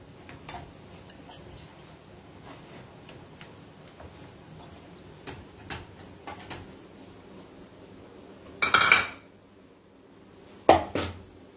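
Ingredients stirred together in a pan on a gas stove for a simple homemade dish, with a spatula giving soft scattered ticks and scrapes and two sharper, louder clatters near the end.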